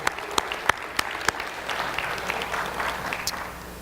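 Church audience applauding adult youth-conference chaperones, a warm wash of clapping with a few sharp, close hand claps standing out near the start, steady to the end.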